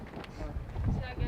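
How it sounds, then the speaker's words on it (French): Strong outdoor wind buffets the microphone in a steady low rumble, with a sailing or boating setting suggested, rising slightly toward the end. "Bon vent dans la gueule."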